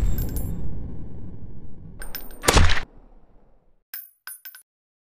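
Gun reloading in the mobile shooter Modern FPS Military Strike: a low rumble, then a sharp metallic clack and a few brief clicks, fairly close, with no talking.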